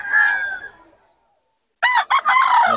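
Two roosters crow at a Bocaue poultry market: a long, fading crow from one bird, a pause of silence, then a second bird's loud, close, broken crow that stays strong to the end.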